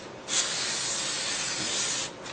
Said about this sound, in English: I get them with a spray lacquer all the way around on both sides